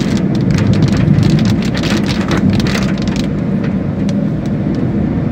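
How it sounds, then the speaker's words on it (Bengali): Heavy rain drums loudly and steadily on a moving car on a highway, a dense patter of drops over a low road rumble, with no voices. "বৃষ্টি নেমে গেল, খড়গপুরে আসতেই"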